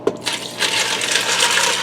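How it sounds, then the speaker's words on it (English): Water poured into a Ninja Foodi pot holding a pound of dry penne pasta, a continuous close rushing splash that starts with a small clunk and keeps steady to the end. "I'm also going to add in 4 cups of water."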